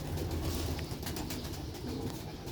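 A pair of tiger pigeons coo softly and repeatedly, close by, over a steady background hum, with no speech.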